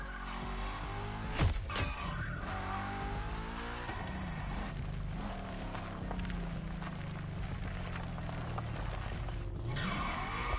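Car engines roar through a drag race on a runway in The Crew 2, a loud sustained rev with a sharp tire screech near the start and a steady high-powered drone to the end.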